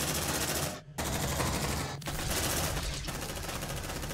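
Rapid automatic gunfire from the video game Aliens: Dark Descent, sustained and loud with brief gaps, dense bursts filling the whole stretch.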